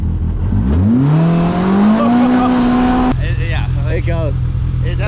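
A supercharged Polaris Pro R UTV engine revs hard on the sand at Sand Hollow, Utah, rising steadily in a loud, sustained climb before cutting off abruptly. Voices and rough engine noise carry on afterward.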